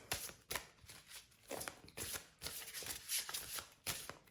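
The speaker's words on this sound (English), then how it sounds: "Let's see if I can shuffle these large cards on camera." Large cards shuffled repeatedly, giving soft riffling and slapping bursts close by, each shuffle separated by brief pauses.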